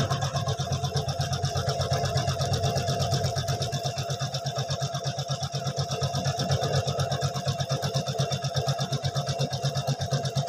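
A computer embroidery machine stitches a design on a garment neck in a fast, even mechanical chatter. A steady motor hum lies under the rapid, repeating needle strokes throughout.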